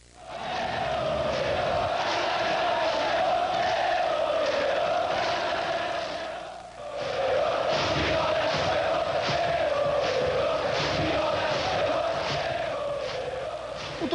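A large football crowd at Pacaembu stadium during a Corinthians vs Flamengo match roars and chants continuously, a dense wall of voices that dips briefly midway before surging back just as loud.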